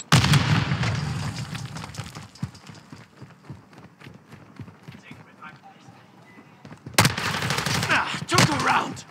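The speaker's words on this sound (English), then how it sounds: "Semtex out!" A Semtex grenade blast and bursts of gunfire in a first-person shooter game, a loud opening boom fading into scattered shots, then another heavy burst near the end, with players shouting over it.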